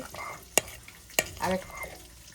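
Prawn cutlets frying in a pan, with two sharp clacks of a utensil against the pan and a short burst of sizzling and stirring; close and moderate, with no talking.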